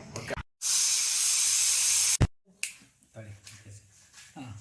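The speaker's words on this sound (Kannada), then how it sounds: "ಅದು ನೋಡ್ರಿ, ಅದು ವಿಶಿಲ್ ಹೋಗೋ ತನಕ" Steam hisses loudly and steadily for about a second and a half from a pressure cooker whistle as vegetable biryani cooks, then cuts off sharply, followed by lighter kitchen clatter.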